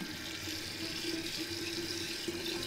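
Water pours steadily into a large jar of unmalted barley, a continuous splashing, gurgling rush that stays even and fairly close for the whole stretch, with no voices over it.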